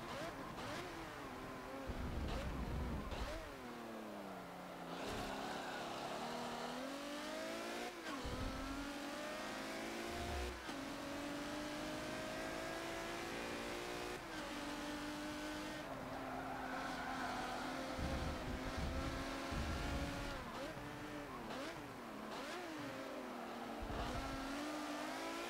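A race car engine in Forza Motorsport 7 revs and shifts continuously, rising and falling through gears with occasional tire squeal, loud and close for the whole stretch, with a voice talking over it at times.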